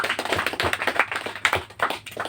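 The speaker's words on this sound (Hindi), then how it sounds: "ताली जरूर बजाए।" An audience claps steadily and fairly loudly, with no one speaking.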